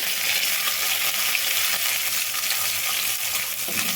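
Green chillies and onions hit hot tempering oil with dried red chillies for a flat bean fry, giving a loud, steady, close sizzle that crackles without pause throughout.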